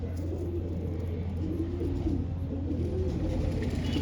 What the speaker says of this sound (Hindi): ये दोस्तों, एक ये कबूतर आया है